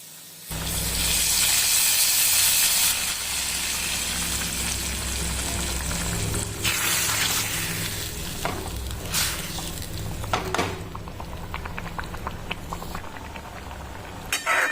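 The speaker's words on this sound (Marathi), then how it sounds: "आता आपण हे फोडणी पालकच्या भाजीमध्ये ओतून घ्यायची" Hot garlic tempering goes into boiled spinach and erupts in a loud hissing sizzle, which fades to a softer crackle and bubbling with occasional clinks of utensils.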